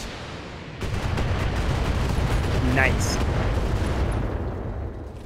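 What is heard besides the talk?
precision strike artillery fire in the video game BattleTech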